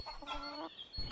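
A hen clucks once in a short, throaty, slightly drawn-out call, faint and alone against quiet background noise.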